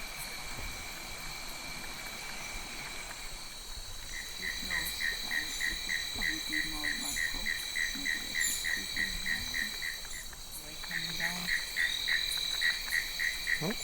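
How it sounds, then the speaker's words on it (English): Night ambience with a steady high insect drone and rhythmic repeated frog calls pulsing in short series, some lower croaks beneath, no voices. "for 10 minutes we are in silence, listening for the frog calls."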